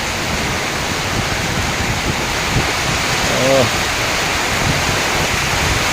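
Heavy wind-driven rain roars as a dense, steady wash of noise throughout. A voice is heard briefly in the middle.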